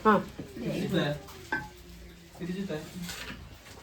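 Food is stirred in a cooking pan with soft scraping and faint sizzling, with a few utensil clinks and quiet voices talking in the background.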